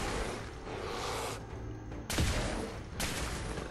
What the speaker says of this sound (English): Wow, that is a pretty big explosion